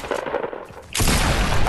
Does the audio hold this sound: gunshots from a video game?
yes